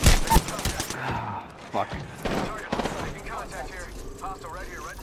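Gunfire in Apex Legends sounds as several sharp bursts of shots early on, then scattered single cracks. A player's voice swears and chatters over the shooting.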